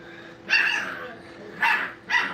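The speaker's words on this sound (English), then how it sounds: "the louder they can bark or growls, the more dominant one" Seven-week-old puppies in a training kennel give three short, sharp yipping barks close by, spaced about a second apart.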